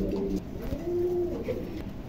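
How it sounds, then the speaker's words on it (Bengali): A pair of American yellow lakka pigeons coo nearby, soft low throaty calls rolling in a couple of drawn-out phrases, quiet and close with no voices. "এখানে একজোড়া ইয়েলো লাক্কা আছে আমেরিকান"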